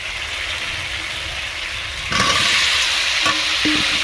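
Boiled potatoes and soybean chunks frying in spice paste, a continuous close crackling sizzle that swells louder about halfway through, with a few scraping stir knocks near the end.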